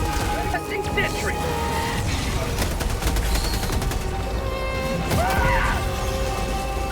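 Rapid automatic fire from a sentry turret in the game Helldivers 2, loud and sustained, layered with explosions, crashes and battlefield clutter, with a player shouting over the barrage.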